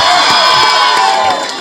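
A large crowd cheers, whoops and applauds loudly and continuously at a Tamil film first look launch event, dense and close, with shouts rising out of the roar.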